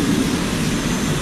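An air force aircraft roars overhead during an air show rehearsal at Marina Beach, a broad, steady rumble that is moderately loud and carries on throughout.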